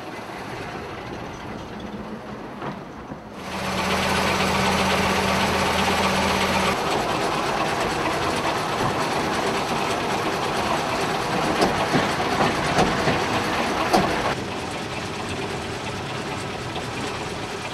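A Crochat railway locotractor's engine runs steadily while driving, a loud continuous mechanical drone with a rumbling low hum that swells at the start, then a faint rhythmic rail clatter that eases toward the end.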